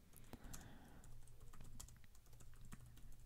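Typing on a computer keyboard while entering text in the Canva design tool: a steady, rapid run of soft key taps, close and quiet, with no talking.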